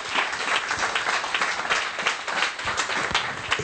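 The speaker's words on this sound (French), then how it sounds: "Applaudissez Jésus, alléluia" A church congregation claps during a French-language sermon, producing a continuous, lively crowd applause with dense overlapping hand claps and no voices.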